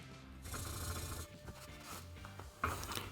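A hand plane blade's bevel is ground on a sharpening stone, giving steady, close, gritty rubbing strokes with soft scraping, fairly quiet and without speech.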